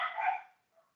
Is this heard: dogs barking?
yes